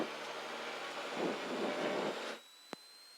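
Steady broadband engine roar from a small aircraft lined up on the runway as power is eased in for takeoff, swelling in the middle and then dropping away abruptly near the end, followed by a single sharp click.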